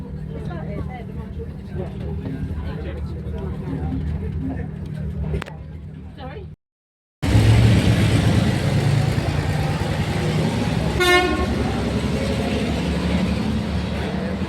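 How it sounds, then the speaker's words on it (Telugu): A passenger train stands at a coastal Sri Lanka station on the Colombo to Galle line, giving off a steady engine rumble and broad mechanical noise, broken by a brief gap, with people talking over it. "మేము దిగిన ట్రైన్ ఇది."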